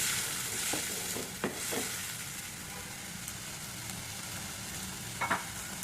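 A paste of onion, garlic and ginger hitting hot oil with cumin and cinnamon in a pan for liver bhuna, giving a dense steady sizzle with a few sharp clinks and scrapes of stirring near the end.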